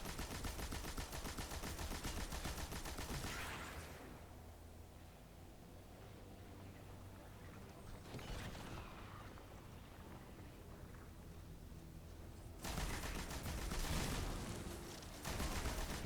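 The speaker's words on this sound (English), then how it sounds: "Stun him again, and use the machine gun to finish." Rapid machine gun fire rattles in Destiny 2, a dense continuous burst at the start and another near the end, with a quieter gap of game ambience between, no speech.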